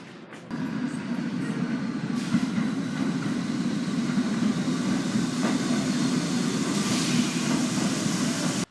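A train rumbles steadily with a low, continuous roar, close and sustained, with faint rattling over the top.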